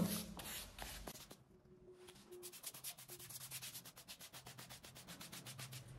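A paintbrush applies finish to wooden slats on a headboard in rapid, rhythmic scratchy strokes, close and soft, pausing briefly before resuming in a steady series.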